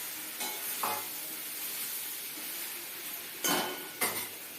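Mini idlis tipped into an oiled pan over a low flame and stirred: a few scattered clatters and scrapes over a faint, steady background hiss, fairly quiet throughout.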